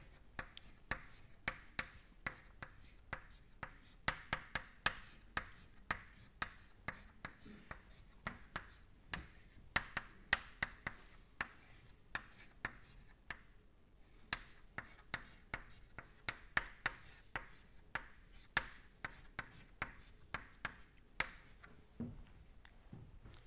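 Writing during a lecture on tensors and deformation: a long run of quiet, sharp taps and scratches at an irregular pace, each stroke distinct against a hushed room.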